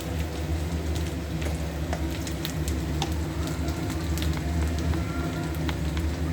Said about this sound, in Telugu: సో అల్లం వేసేసి కొంచెం ఫ్రై అవ్వనిద్దాం